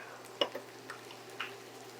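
Pan-fried potatoes and onions in butter: a quiet, soft sizzle with a few light ticks and a sharper clink of a utensil against the pan, over a low steady hum.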